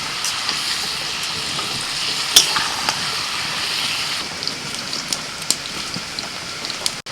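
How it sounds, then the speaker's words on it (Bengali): A dense, even hiss of potatoes frying in a pan on high heat, with scattered crackles and spits throughout. "আলুটা ভাজার সময় উনানের জালটা কিন্তু জোরে দিতে হবে একদম হাই হিটে ভাজতে হবে"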